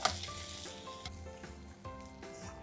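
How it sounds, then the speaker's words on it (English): Drained boiled peas tipped into a hot pan of masala for Bengali-style ghugni, a brief sizzle and hiss with soft clatters as they land and shift, fairly quiet and without talk. "I'm just going to drain the matar and add them directly to our pan."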